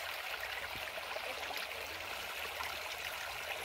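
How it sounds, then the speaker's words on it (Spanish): Water from a hill gushes steadily from a spout or small stream in a pasture, a continuous hissing rush with no pauses, heard alone and fairly close. "Mira cómo suena ese chorro."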